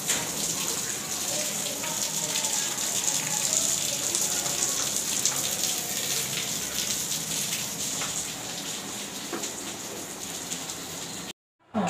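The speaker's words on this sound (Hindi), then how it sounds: "बारिश भी शुरू हो गई है" Steady rain falls outside a home kitchen, a dense even hiss of drops on surfaces running for most of the stretch before cutting off briefly near the end.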